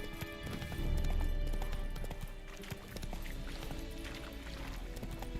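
Roach, the horse in Witcher 3, gallops with rhythmic clip-clop hoofbeats under game music and ambience, fairly faint in the mix.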